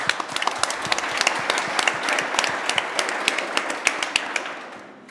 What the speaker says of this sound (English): Hermann Hauser, big round of applause.